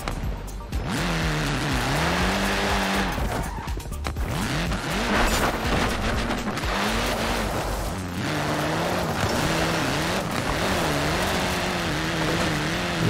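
A BMW M3 E46 tuned for drifting in Forza Horizon 4, its engine revving up and down in wavering pitch sweeps with exhaust pops and tire noise, loud and continuous throughout.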